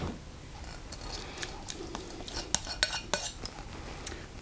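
Boiled pasta tossed with hamburger being served onto a plate, with scattered light clinks and scrapes of metal utensils against the dish, fairly quiet and irregular.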